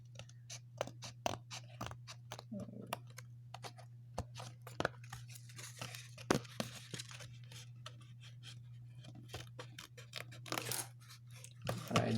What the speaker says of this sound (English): Now just take a small piece of that, cut it with a scissor.